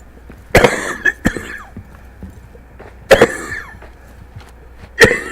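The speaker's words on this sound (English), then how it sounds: "Coughing and sneezing and nose running." A person coughs sharply several times, in three spaced bursts of harsh, close coughs with lighter throat noises between them and a faint steady background hum.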